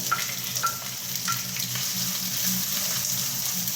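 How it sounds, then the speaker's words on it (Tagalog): Dry anchovy base frying in hot cooking oil: dense steady sizzling hiss with light clicks of stirring, close and continuous throughout. "mainit na po yung ating mantika. Nalagay na po natin yung ating dry angkobase."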